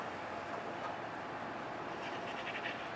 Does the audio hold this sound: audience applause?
no